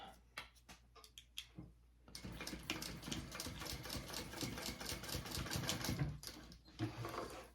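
A sewing machine top stitches a crossbody bag, first in a few short stuttering bursts, then in a steady, continuous mechanical chatter at close range before slowing to a stop.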